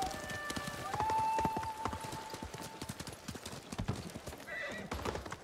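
Rapid clip-clop of horse hooves at a gallop in the video game Ghost of Tsushima, with a whinny, dense and steady throughout, faint game-like tones behind.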